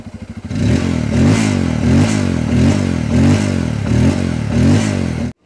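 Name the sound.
Bajaj Pulsar N250 motorcycle twin-barrel exhaust revving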